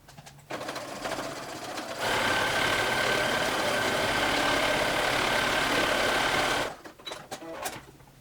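Sewing machine stitching lace elastic onto knit fabric, a steady fast whirring hum running for about four and a half seconds after a softer start, then stopping, with a few light clicks afterward.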